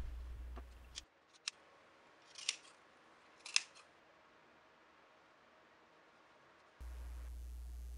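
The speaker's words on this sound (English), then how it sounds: "And here I do clip some curves." Scissors snip through dress fabric, clipping curves in a few short, crisp cuts spaced apart, close and fairly quiet, with no talking.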